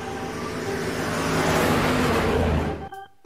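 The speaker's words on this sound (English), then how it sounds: "Yellow school bus." A yellow school bus drives past, a steady loud engine rumble that swells through the middle and then cuts off sharply near the end, leaving near silence.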